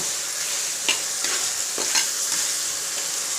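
Manathakkali berries sauté in a pan for a tangy tamarind kuzhambu, giving a constant bright sizzle with soft rhythmic scraping strokes of a spoon stirring them every half second or so.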